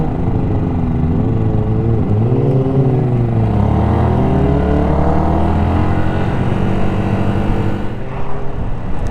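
A Yamaha YZF R125 motorcycle runs at full throttle in sixth gear, its engine note loud, close and unbroken for the whole stretch, with the pitch wavering and climbing in a steady drone and no talking.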